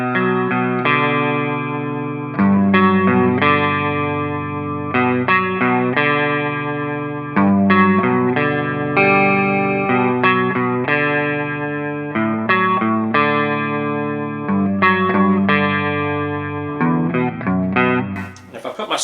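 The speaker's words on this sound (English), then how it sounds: "The tone that they used on this pedal is spot on." An electric guitar played through an effects pedal set for a specific album tone, with loud, distorted, chugging palm-muted riffs and sustained chords running continuously and up close.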